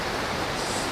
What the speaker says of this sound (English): Sucker for waterfalls as ever.